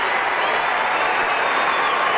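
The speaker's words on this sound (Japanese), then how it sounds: "ブレイクを拍手してますが" A tennis crowd applauds Safin's break of serve, a dense, even wash of clapping from many spectators throughout, moderately loud.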